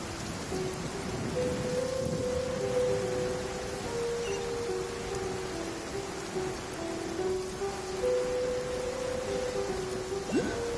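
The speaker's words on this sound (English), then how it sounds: "The rain won't slow me down." Steady rain with a low rumble of thunder in the video game Genshin Impact, a constant wash of falling drops under faint tonal game music, with no voices.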